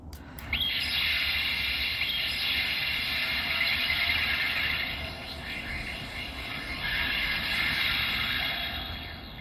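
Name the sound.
Ultraman Dyna Guts Eagle toy firing electromagnetic net sound effect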